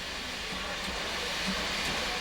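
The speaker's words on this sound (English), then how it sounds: "the sight and sound of 3801 steaming again" Restored Australian steam locomotive 3801 runs near Newcastle Station in 1986, giving off a steady, broad hiss of steam and rolling rumble, fairly distant and even throughout with no voices.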